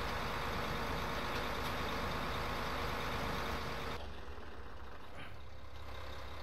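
Tractor engine in Farming Simulator 15, a steady loud droning rumble with a constant high whine, dropping to a quieter idle hum after about four seconds; no talk.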